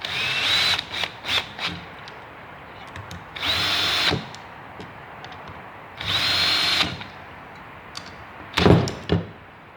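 A power drill drives bolts back into an alternator under repair, heard as a few quick blips followed by two sustained whirring runs of about a second each and a final short burst, loud and close.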